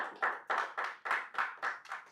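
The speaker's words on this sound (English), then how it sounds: "I think you should clap at this point." Small group clapping in uneven bursts, about eight loose swells of hand claps in quick succession, fairly quiet and close, with no talk over it.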